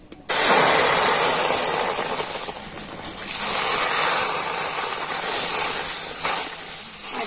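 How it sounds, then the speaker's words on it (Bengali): Cow's milk is poured into semolina frying in a pan, setting off a loud, sudden burst of hissing steam and sputtering that runs on continuously and swells a second time partway through. "আর এখন আমি এর মধ্যে দিয়ে দেবো দুধ।"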